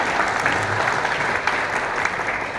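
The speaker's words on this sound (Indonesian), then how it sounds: "kita berikan tepuk tangan" Applause at a political coalition gathering, a sustained even wash of many hands clapping at moderate distance, with no clear talk over it.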